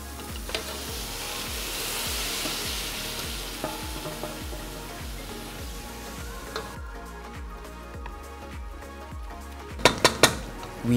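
Meat sizzles in a pan with tomato paste, a steady frying hiss under repeated scraping stirs of a utensil against the pan, ending in a few sharp metallic clinks.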